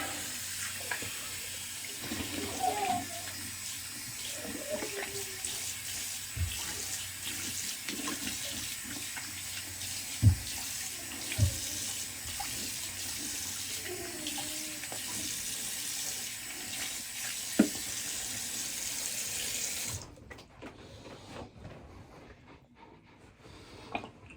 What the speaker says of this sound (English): Oh, cold water.